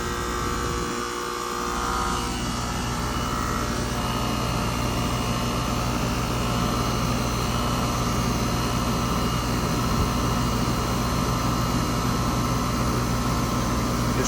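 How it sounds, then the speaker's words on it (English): A struggling compressor in a Rheem air conditioner running in cooling mode drones steadily and loudly, with a dense, rough mechanical hum and noisy hiss that persist without a break. "that compressor just don't sound good anyway"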